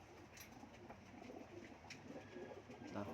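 Pigeons coo softly in a few low, rounded calls, faint and somewhat distant against light background noise.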